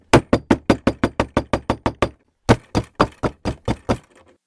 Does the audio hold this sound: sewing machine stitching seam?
no